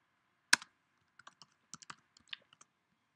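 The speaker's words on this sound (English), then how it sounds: "So what you'll need to do is go into Google and type in the movie title." Close, quiet keystrokes on a computer keyboard, one sharper tap followed by a loose run of about a dozen light clicks, as a movie title is typed into a search.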